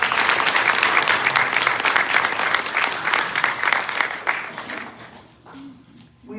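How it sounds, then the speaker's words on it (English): An audience at a homeowners' association board meeting gives a sustained round of applause, dense steady clapping from many hands that fades out toward the end. "big round of applause."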